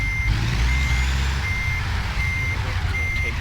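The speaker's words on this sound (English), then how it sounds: "turn off the backup beeper because it is extremely loud" Truck reversing beeper in American Truck Simulator, a steady repeating electronic beep that stays fairly quiet over a loud, low idling engine rumble, with no voice.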